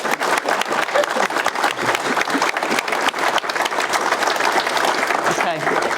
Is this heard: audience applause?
yes